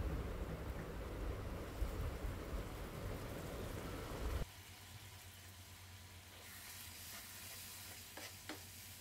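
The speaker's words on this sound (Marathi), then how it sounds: "नंतर यामध्ये 1 वाटी दूध ओतायचं आहे।" Milk goes into pineapple sheera in a hot pan, setting off a loud, churning bubbling sizzle for about four seconds before it abruptly drops to a quieter simmer with faint clinks.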